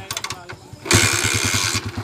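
Motorcycle engine running smoothly, with a loud, close, rapid pulsing beat that picks up sharply partway through, while someone talks over it.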